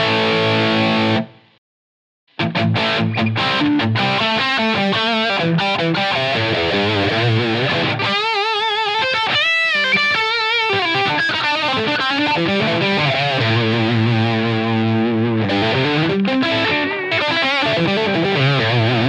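Distorted electric guitar plays through dual amp models with delay summed to mono, with strummed chords and picked lines trailing into echoes, and one brief silent gap near the start.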